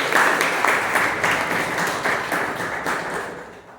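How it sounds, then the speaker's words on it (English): A Toastmasters club audience gives a round of applause for the speakers, steady dense clapping from a fair-sized group that holds at full strength before thinning slightly toward the end. "please give them a big round of applause"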